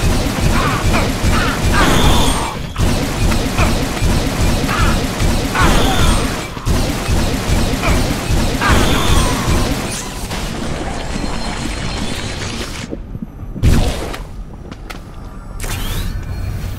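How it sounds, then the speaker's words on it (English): The bio rifle in the Unreal Tournament 4 video game fires blobs of bio goo in quick, repeated wet splats and mechanical clunks, a steady loud rhythm that breaks into scattered hits near the end. "Primary fire mode of the bio rifle shoots small blobs of bio goo."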